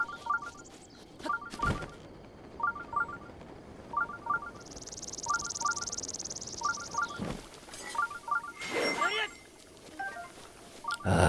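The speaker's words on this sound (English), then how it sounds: "Restless Crickets" Restless Crickets in the Breath of the Wild video game give regular, quiet bursts of bright chirping, repeating about every half-second to second, with a soft hiss and a couple of sharp game sounds in between.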